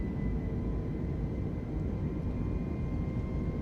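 Twin engines of an A320neo airliner in Microsoft Flight Simulator spool up for takeoff, a steady, loud, broadband roar with a faint high whine held evenly throughout, no voices.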